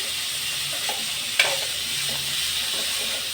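Cauliflower masala curry being stirred in a hot pan, with a steady sizzle and frying hiss throughout and a brief scrape of the spoon partway through.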